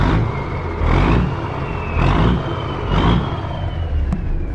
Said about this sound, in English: let's stab this real quick, this throttle. Oh yeah, listen to that